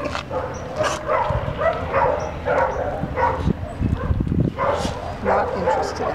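Several dogs at a pen bark, yip and whimper in repeated bursts close by, while people talk over them.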